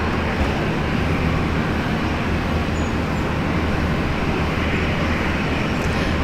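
An airliner takes off from Brisbane International Airport in heavy rain, a loud sustained engine roar and rumble spread across the whole stretch, blended with steady broadband rain hiss and no voices.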